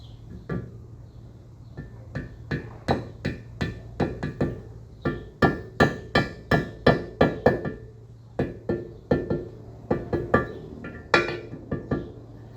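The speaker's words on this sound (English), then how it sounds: "so I'll just get my little hammer and just" A small hammer taps repeatedly on engine block parts during an aircraft engine build, sharp metallic knocks in irregular bursts and quicker runs, close and fairly loud, alone without talk.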